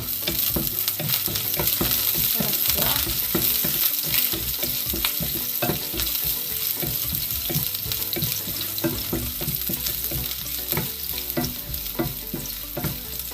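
Garlic and ginger fry in a hot pan, with steady loud sizzling and repeated scraping stirs of a utensil against the pan, continuous and close, no voices.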